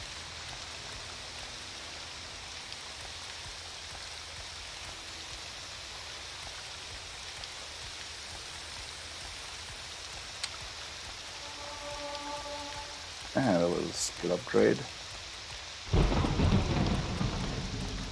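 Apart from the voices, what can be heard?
storm with rain and thunder in the video game Morrowind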